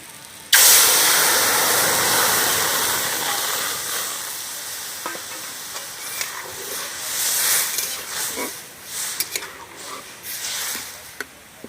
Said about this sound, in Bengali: আমটা কষা হয়ে গিয়েছে, এবার আমি সেদ্ধ করা ডাল তুলে দেবো।